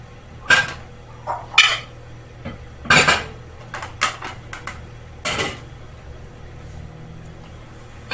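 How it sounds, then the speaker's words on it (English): A mixing bowl comes out for cupcake batter with a run of sharp clatters and knocks of crockery and utensils, several distinct bangs spread over a few seconds with quiet gaps between. "So I'm going to get a bowl out."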